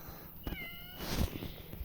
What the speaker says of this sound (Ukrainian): Сейчас переставлю котиков сюда.